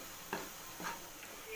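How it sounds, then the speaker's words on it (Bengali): Ingredients for a soybean and masoor dal makhani are being stirred and fried in a pan, giving soft scraping strokes with a light sizzle under them, about three separate stirs. "এটা মোটামুটি ভাজা ভাজা হয়ে গেছে।"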